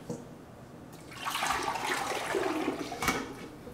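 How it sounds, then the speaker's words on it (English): Hair oil is poured into the top of a filling machine, making a close, rushing liquid splash that swells for about two seconds and then ends with a brief spatter. "Then we're going to pour it into the top of the filling machine."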